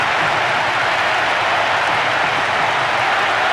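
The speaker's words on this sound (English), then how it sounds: "The stadium is shaking because they're jumping up and down and making so much noise." Stadium crowd roaring after a goal in a Brazil versus Japan football match, a dense, steady wall of cheering and noise filling the whole stretch without letup.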